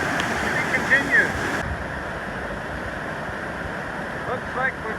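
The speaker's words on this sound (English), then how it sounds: "Looks like we found the end of that waterfall" A mountain waterfall pours down into Ross Lake, producing a steady, broad rush of falling water close by that continues unbroken for the whole span.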